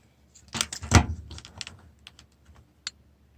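Plastic clips of a 1975 Unitrex Mini Handy 80M calculator case being pried open with a fingernail: a burst of close, dry clicks and snaps, loudest near the start, then scattered lighter ticks, with no talking.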